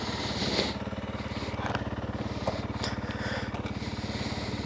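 A 2024 Honda CRF 300L with its factory exhaust pipe idles with a steady, quiet, even engine putter, heard close by with no voices.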